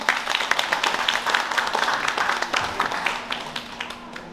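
Applause rises from the audience at a summer camp opening ceremony in New York, a steady patter of many hands clapping at moderate volume that gradually thins and fades toward the end.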